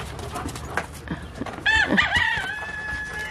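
A rooster crows once, close and loud, after a moment of soft rustling and background noise.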